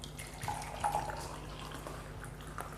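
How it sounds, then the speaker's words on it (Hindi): Alkaline water is poured into a glass of oil, giving a faint, soft splashing trickle with a few small drips, quiet and close. "ये मैंने ग्लास में ऑयल लिया था, हम इसमें डाल रहे हैं।"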